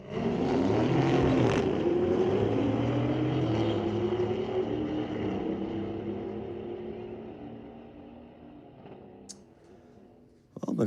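A McLaren and a Mercedes AMG launch in a street-legal drag race at Mission Raceway Park, a loud engine roar with rising pitch sweeping past and fading into the distance over about ten seconds.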